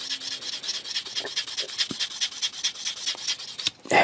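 Fine-grit sandpaper rubs over a small 1/32 scale T-800 endoskeleton model part, producing quick repeated scratchy strokes in an uneven rhythm, close and fairly soft, with no voices.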